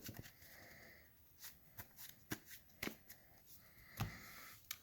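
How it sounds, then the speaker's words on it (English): A deck of Yu-Gi-Oh cards gets a quick shuffle: soft, close, papery card flicks and taps over a few seconds, fairly quiet, with no speech. "Get the good old shuffle."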